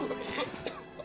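A character in a period drama suddenly coughs up blood, giving a short, harsh, close coughing burst with a raspy throaty quality, and no other sounds alongside.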